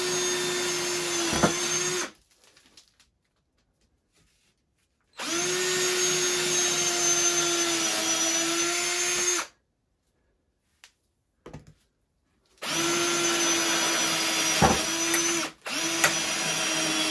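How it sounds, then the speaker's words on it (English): A power drill runs loud and steady in three long bursts while parts for an ATV spreader mount are built, with abrupt silences between the runs, a few faint clicks in one gap and a sharp snap near the end. "so the drill died"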